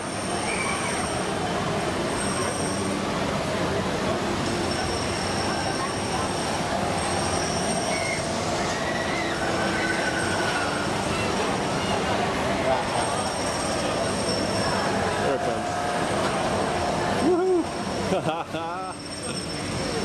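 A Disneyland monorail rolls into its station with a sustained rumble and squealing wheels that build near the end, while voices murmur around the platform.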